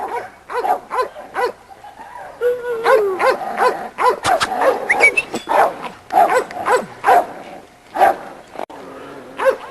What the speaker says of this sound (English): This is our little Sarita dog.